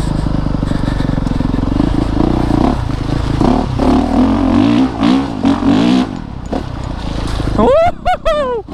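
A 2019 Honda CRF450RX dirt bike ridden off-road, its engine loud and close, revving and rising in pitch with gear changes, clattering and scraping along, and a rider's whoop near the end.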